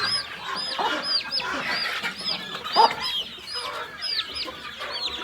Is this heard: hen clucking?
yes